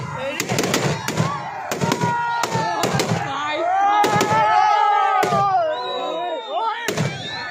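Fireworks and firecrackers go off during a New Year celebration. Loud, sharp bangs come in a quick irregular series, followed by whistling, crackling trails. People talk and shout excitedly throughout.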